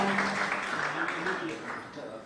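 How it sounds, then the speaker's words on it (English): An audience applauds at a state formation day celebration held by the Tamil Nadu governor. Moderate clapping rolls on throughout while a voice speaks over it. "make us remember with your wonderful applause, thunderous applause, resonating applause."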